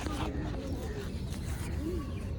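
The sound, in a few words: bird calling nearby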